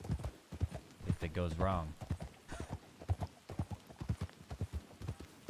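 Horse hooves clip-clop in a steady, rapid rhythm in a video game, running underneath close conversation between players.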